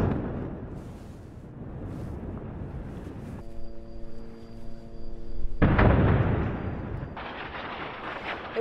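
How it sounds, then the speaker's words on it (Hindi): Deep booming blasts from Israeli air strikes on Beirut, Lebanon, rolling across the city with a loud swell near the end, amid broadband rumble and a steady tonal hum in the middle. "धमाकों की आवाज से पूरा बेरूत दहल उठा।"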